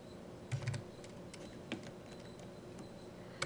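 Computer keyboard keys tapped while entering text in Blender, with soft, sparse clicks at uneven intervals over a quiet room background.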